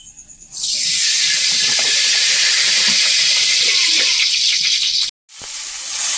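Puti fish fry in hot oil with a loud, steady sizzling hiss that rises suddenly after a few soft pops, then cuts out briefly before resuming.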